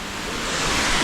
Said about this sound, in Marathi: त्यानंतर हा व्ह्यू बघा धबधब्याचा.